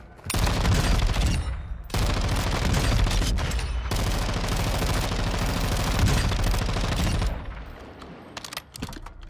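The Rap-H gun fires at the shooting range in Warzone, with long, dense bursts of rapid automatic gunfire, loud and close, broken by short pauses and ending in a few scattered shots.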